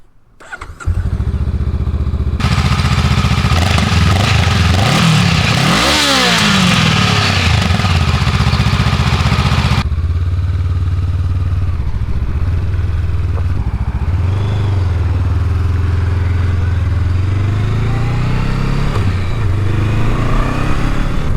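A 2021 Honda Rebel 500 motorcycle engine starting up and idling loudly up close, with a rev and throttle swell early on, then a steady low rumble and some softer revs, no talking.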